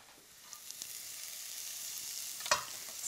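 Onion, grated ginger, chopped green chilli and garlic frying in a pan over medium heat for a chicken curry, a steady soft sizzle with a few light clicks and one sharper knock, no talk.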